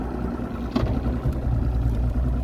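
A boat's outboard motor runs in a steady low drone with a brief knock partway through, loud and close, with no talking over it.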